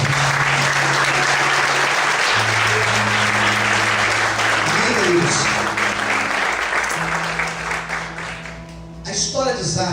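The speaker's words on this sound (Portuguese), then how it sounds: "Desocupe a sua mão, aplauda o Senhor nessa noite" A church congregation applauds during an evening service, dense steady clapping from many hands filling the room, with sustained organ or keyboard tones underneath, then the applause thins and fades near the end.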